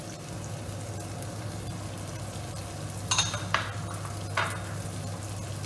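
Leek, broccolini stalks and asparagus stirred in a frying pan, with a steady low sizzle and a few sharp scraping clacks of the utensil against the pan near the end.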